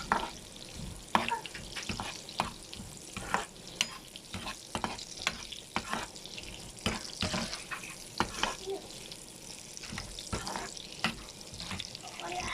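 Hot dogs fry in a pan, sizzling under irregular scrapes and clatters of stirring at close range, with faint water-like hiss throughout.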